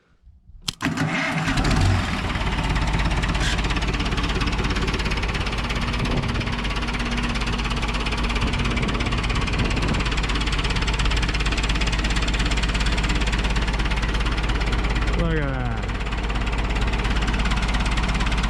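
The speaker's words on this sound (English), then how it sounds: "I mean, it's a pretty clean running engine" A big Cummins 4BT diesel engine fitted in a Farmall M tractor cranks and catches, then runs steadily with a deep, loud, rumbling idle throughout; someone says a few words briefly.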